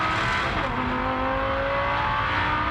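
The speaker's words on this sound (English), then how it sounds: "You can hear him use the curve, can't you? That little rattle." Lamborghini Super Trofeo race car at Spa-Francorchamps, a loud, sustained engine roar with rising tonal whine as it rides over the kerb, steady and close throughout.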